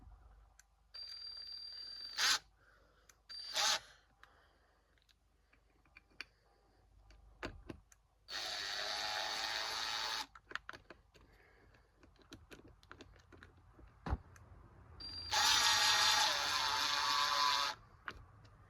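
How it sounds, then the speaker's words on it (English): A RIDGID 18V R86002 impact driver drives screws into wood in two sustained rattling bursts, each about two seconds long, with scattered clicks and handling knocks between them. "Now we're gonna go ahead and run a few screws in there."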